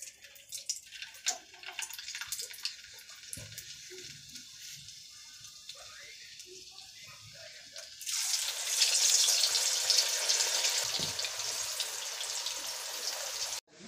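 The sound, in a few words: french fries frying in hot oil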